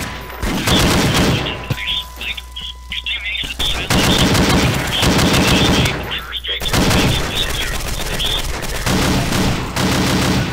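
Rapid-fire shotguns blasting in a Half-Life 2 mod shooter game, loud dense bursts of repeated gunfire in long volleys with brief pauses, and people talking over parts of it.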